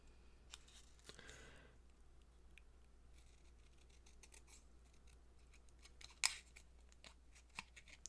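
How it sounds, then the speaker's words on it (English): Scissors fussy cutting around a paper craft shape, a close run of small snipping clicks and paper rustle at low level, with one sharper snip standing out. "I'm going to fussy cut around here a little closer"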